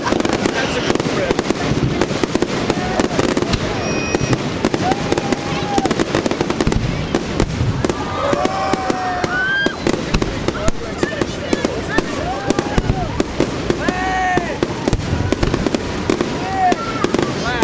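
New Year's Eve fireworks explode over a river in a continuous barrage of cracks, booms and whistling rockets, with people talking and exclaiming nearby throughout.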